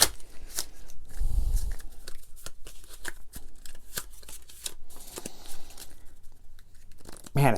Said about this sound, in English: we will take the rest of the action deck here and we will shuffle